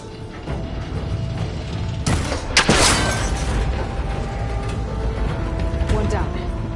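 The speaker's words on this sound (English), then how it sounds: "It should break if I shoot it." A cable connector in Horizon Forbidden West is shot and breaks apart, giving a sudden loud crack and a brief mechanical burst of snapping debris over a steady background hum, then a lingering rattle.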